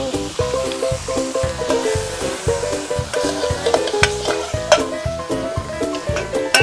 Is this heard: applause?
no